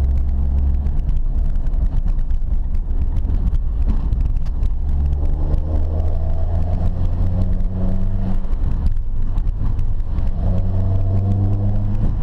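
Peugeot 205 Rallye engine driving through villages, a steady close, loud drone with shifting revs and gear changes throughout, no talk.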